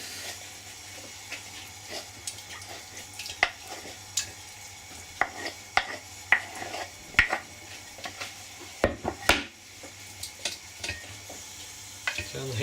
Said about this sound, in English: put the pan on now. Start heating that up.